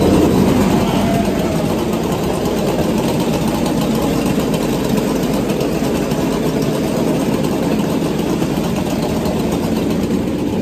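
Six or eight new Husqvarna chainsaws idle and run together in a workshop yard, a dense, loud, continuous engine drone with a rough buzzing texture and no break.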